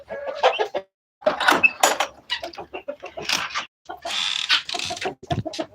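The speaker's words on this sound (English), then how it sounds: "Now I gotta water the roosters in the coal pen." Roosters kept in a coal pen cluck in close, loud bursts with brief pauses, one sharper call standing out amid the steady fowl chatter.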